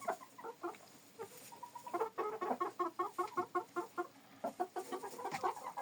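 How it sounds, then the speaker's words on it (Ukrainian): A Rivne chintz rooster clucks in rapid, rhythmic bursts, close and fairly quiet, with a dense run of repeated clucks through the middle and no talking. "Ось що півень який. Це рівенська сицева хлопець."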